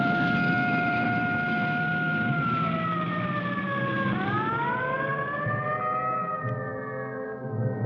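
A loud wailing siren rising and falling in pitch, sustained and close, with no voices over it.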